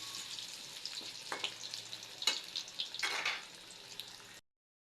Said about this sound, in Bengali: আলুগুলো আমি ভেজে নেব খুব ভালো করে।